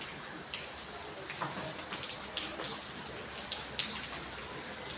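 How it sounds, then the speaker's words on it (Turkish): Light drizzle patters steadily, heard from a balcony, faint and soft, with scattered drops tapping on a nearby surface. "Böyle göstereyim yağmuru size."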